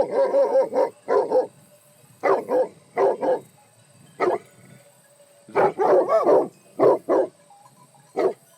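Serra da Estrela flock guardian dog barking outdoors, bursts of several deep, loud barks in irregular clusters with short pauses between them, no talk.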